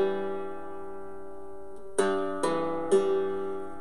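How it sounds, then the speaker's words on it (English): Three-string cigar box guitar played with a slide, a sustained open-string tone fading before three sharp strums in a row, each left ringing, with no talk. "What you hear is the low string and the high string ringing out."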